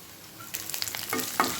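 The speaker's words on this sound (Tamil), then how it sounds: "நல்லா வதக்கி விடுங்க." Chopped garlic sautéing with ginger in a frying pan for drumstick rice. A short burst of bright sizzling with stirring scrapes rises toward the end and sounds close.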